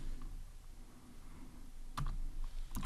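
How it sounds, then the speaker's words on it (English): Keys tapped on a computer keyboard while entering code, heard as a few sparse, faint clicks near the end over a quiet room background. "So I'm gonna type here SeekBar"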